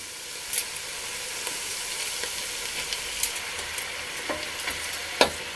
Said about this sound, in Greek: Στη συνέχεια θα επιστρέψουμε το κρέας στη κατσαρόλα.